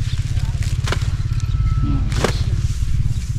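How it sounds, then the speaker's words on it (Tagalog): Tractor passing close by on a farm plot, a steady loud low-pitched engine chug with a rapid rhythmic throb and some clattering, with a voice speaking briefly over it. "Dadaan ng traktora dito."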